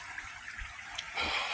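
Water is tipped out of a container onto grass in a garden, a soft steady trickle that swells into a fuller splashing gush toward the end, fairly close and with no talking.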